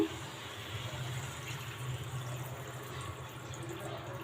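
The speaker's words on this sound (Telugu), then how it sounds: "ఇప్పుడు మన గ్రేవీకి సరిపడగా వాటర్ వేసుకుందాము." Water pours steadily into chicken curry gravy in a pot, a soft continuous splashing rush close by lasting a few seconds, with no talk over it.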